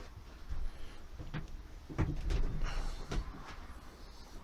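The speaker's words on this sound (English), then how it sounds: "this is a door." Door of a Mercedes 508D van being worked, several soft knocks and thuds spread through a few seconds, the heaviest near the middle, faint and close in a quiet space.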